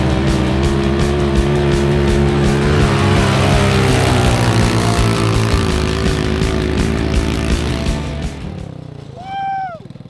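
Modified mini jeep engine driving nearby, a loud, steady buzzing drone with strong harmonics that holds for most of the clip, then drops away as the jeep passes, followed by a brief rising and falling whine.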